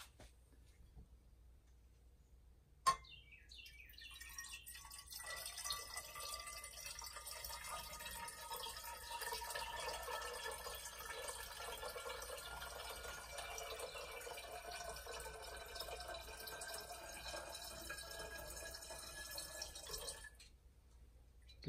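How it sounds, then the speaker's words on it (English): Solution poured into a glass separatory funnel in a lab, a steady trickling, splashing stream after a sharp clink, running continuously for about fifteen seconds before stopping, quiet and close. "I'm going to take the solution and I'm going to pour it into the separatory funnel."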